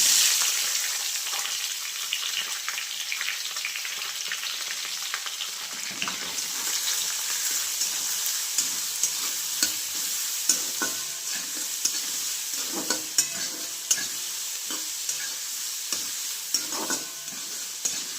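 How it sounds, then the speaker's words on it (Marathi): Chopped onion frying in oil until browned, a continuous soft sizzle with repeated scraping and stirring clicks from a spoon in the pan, heard close up with no talking. "कांदा चांगला लाल भाजून घेते कांदा चांगला लाल भाजला"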